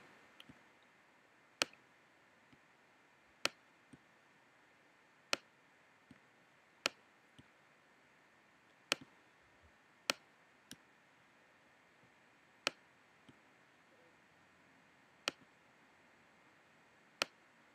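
A computer mouse clicks sharply and sparsely, with single and double clicks spaced a second or two apart over a quiet room hum.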